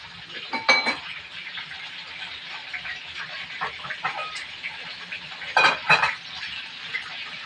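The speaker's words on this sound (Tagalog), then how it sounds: "Prito yung pork chop natin guys." Pork chop frying in a pan, a soft steady sizzle with loud clinks and scrapes of a utensil against the pan in short bursts, close by.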